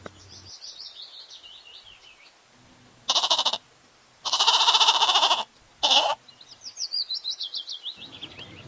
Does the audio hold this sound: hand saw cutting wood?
no